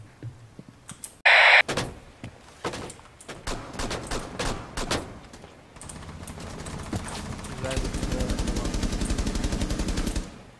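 Rainbow Six Siege gunfire: rapid automatic bursts and single shots snap out in quick clusters, building into a long, dense rattle of fire near the end.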